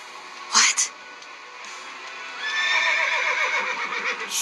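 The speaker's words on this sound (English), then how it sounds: "My guy just turned into an effing horse." Horse neighing in the video game Reverse: 1999, a sharp whinny burst near the start followed by a longer, wavering neigh that fills the second half, fairly loud and close.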